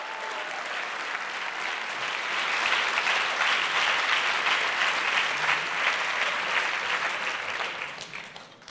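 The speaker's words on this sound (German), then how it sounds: "Bitte einen ganz herzlichen Applaus für unsere erste Gruppe." Full, sustained applause from a crowd at a youth hackathon presentation event, many hands clapping densely and loudly, building over the first seconds, holding steady, then tapering off at the end.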